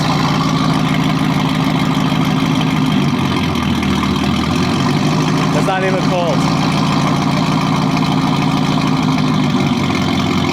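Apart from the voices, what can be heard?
car engine idling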